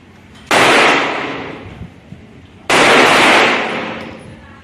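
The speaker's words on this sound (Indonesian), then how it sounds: "Pandang dan tembak, pandang dan tembak." Two loud, close gunshots from a Pindad G2 Combat handgun at target practice, about two seconds apart, each with a long ringing decay.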